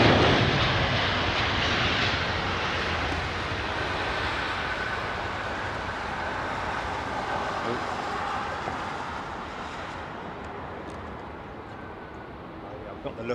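An old freighter aircraft at London Heathrow makes a broad, steady engine roar that fills the clip and slowly fades toward the end, with faint talk over it.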